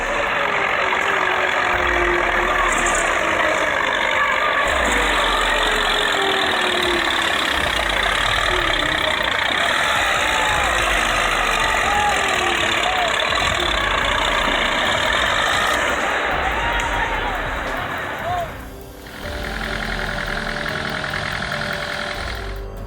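A tractor limping along on only three wheels after losing one, its engine running loud and steady with a rough mechanical clatter, dipping briefly near the end before carrying on.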